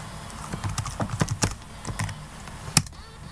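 Key presses on a small netbook keyboard while a username and password are entered: about a dozen irregular, close, crisp clicks over a few seconds, with one sharper tap near the end and no talk.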